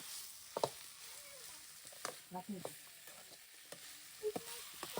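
Drumstick pieces with salt and spices stirred in a frying pan: soft sizzling under scraping and clinking stir strokes at irregular intervals, fairly close.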